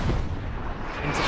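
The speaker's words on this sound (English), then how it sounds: "As, oh, Terminator does miss his rocket" A rocket launcher fired in the Hell Let Loose war game, a loud, close booming blast that rumbles on, with low, heavy battle noise filling the whole moment.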